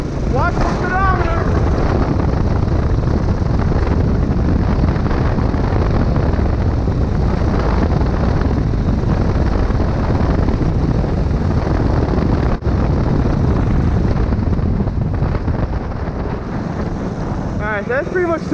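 A gas-motor go kart accelerates down a city block, a continuous loud engine roar mixed with heavy wind buffeting, steady throughout with no talking heard.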